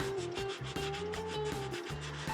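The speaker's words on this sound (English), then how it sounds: "I'm not pressing very hard whatsoever because I'm letting the sandpaper do all the work" Sandpaper rubbed lightly by hand over a workpiece in quick back-and-forth strokes, a close, rhythmic scratchy swishing repeating about every quarter second with a faint steady tone beneath.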